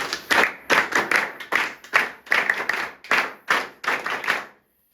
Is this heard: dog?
no